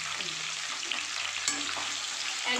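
Onions sautéing in hot oil in a pan for a dhaba-style aloo capsicum curry, a steady close sizzle and crackle with light stirring scrapes, and no talk over it.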